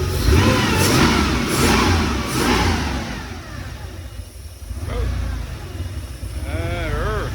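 The engine of a Porsche 911SC, freshly adjusted after running too rich, runs and revs with rising and falling throttle blips close by, while a person talks over it.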